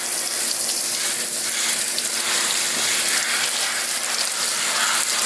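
Steady rushing spray of water rinsing spider mites off Monstera leaves, continuous and close with no pauses.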